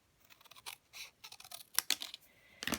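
Scissors cutting through paper cardstock while making a handmade card, a series of close crisp snips and rustling slices in uneven bursts, no voices.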